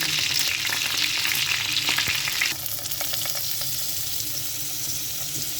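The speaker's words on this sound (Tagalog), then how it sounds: "Piprito ang manok." Pieces of chicken fry in a pan with a loud, continuous hiss and sizzle, close up; the sizzle drops in level partway through and carries on steadily, with faint stirring and no talk.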